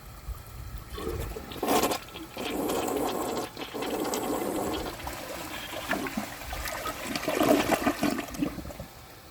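A partially clogged 2005 American Standard Cadet toilet flushes with a steady rush and gurgle of water for about nine seconds, swelling louder toward the end, close and with no talking.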